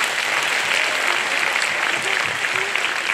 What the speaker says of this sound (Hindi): जोरदार से ताली बजाएं।